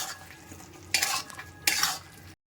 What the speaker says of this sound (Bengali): এবার আমি গরম মশলার গুঁড়ো দিয়ে দিচ্ছি দিয়ে ভালো করে আরেকবার নাড়িয়ে নেব